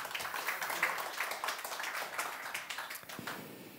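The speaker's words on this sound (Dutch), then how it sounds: "Even applaus voor beiden." Studio audience applause for two guests on a Dutch talk show, a faint, steady spatter of clapping from a modest crowd that continues evenly throughout, heard at low level.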